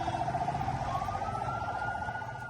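A wailing ambulance siren rises and falls steadily in the distance, fairly faint, with a low rumble of traffic underneath.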